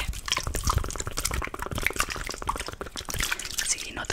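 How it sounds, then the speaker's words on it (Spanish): Water from a spray bottle dampens a girl's hair before a haircut, heard as close, repeated wet spritzes and drips in a quick uneven rhythm, with soft speech in the background. "Voy a humedecerte un poco el pelito"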